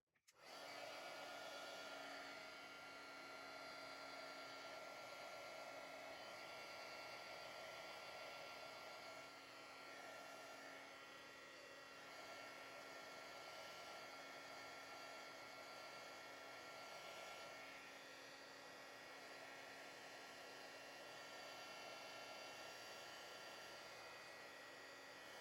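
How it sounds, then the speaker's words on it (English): A heat gun blows over a watercolor card, a steady, close whooshing roar with a faint whine that runs unbroken from start to finish, no speech. "now I'm going to give this a quick dry with the heat gun"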